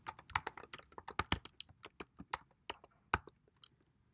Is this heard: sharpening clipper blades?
no